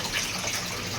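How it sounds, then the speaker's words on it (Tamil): Running tap water splashes over hands being washed, a close, steady watery rush with no voices. "என்ன கை கழுவுறா?"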